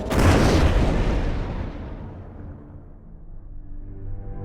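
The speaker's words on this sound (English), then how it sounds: "The propane tanks, subjected to intense heat and flame, exploded inside the basket." Propane tanks exploding inside a burning hot air balloon basket over Luxor: one massive, close, loud boom that decays slowly into a long, deep, rumbling roar.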